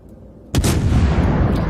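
A warship in World of Warships fires a broadside, one sudden heavy boom of massed guns followed by a long rumbling roll that stays loud and fills the space, with no voices.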